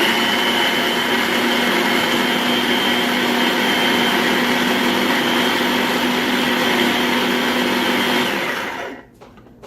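A food processor whirs loudly and steadily for about nine seconds, finely chopping onions, then the motor cuts off and winds down to quiet.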